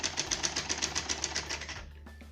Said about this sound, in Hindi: और अब हम इस पर सिलाई लगा लेंगे।